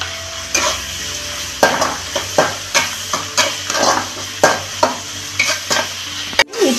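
Ingredients for uggani fry in a pan while a spoon stirs them in steady, repeated strokes, each scrape and clack against the pan rising over a constant close sizzle, with no talk.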